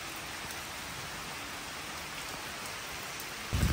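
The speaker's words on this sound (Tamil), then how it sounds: "மழை பெய்யுது பாருங்கள்." Steady rain falls in a gated villa community in Maraimalai Nagar, a continuous even hiss of drops on surfaces throughout, with a short louder patter or bump at the very end.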